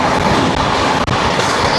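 The 12102 Shalimar–LTT Gyaneshwari Express passes Nasik Road station with a loud, steady roar of wheels and carriages close by, one brief dip in the middle.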